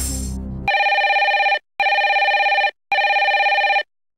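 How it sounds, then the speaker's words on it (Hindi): An electronic phone ring sounds three times in even bursts with short silences between, loud and clean, as a video call is placed on a televised quiz show; a musical sting fades out just before the first ring. "फोन लगाया जा कंप्यूटर जी।"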